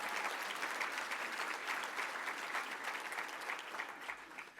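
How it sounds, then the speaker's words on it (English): Gala audience applauding an address by a premier, a continuous, fairly distant wash of many hands clapping at a steady level throughout. "that deserves a round of applause too, I think."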